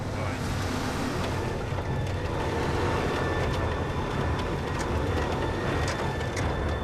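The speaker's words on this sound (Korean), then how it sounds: "파도가 출렁이는 무리를 달리듯 자동차가 쉴 새 없이 흔들리는데요" Vehicle jolting over rough, snowy tundra on the Yamal Peninsula in Arctic Russia, a steady close engine drone with rattling and bumping noises throughout.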